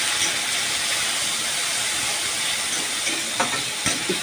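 Onions with green chillies and salt fry in a pan for jute-leaf bhaji, giving a loud, constant close hiss with a few faint clicks near the end.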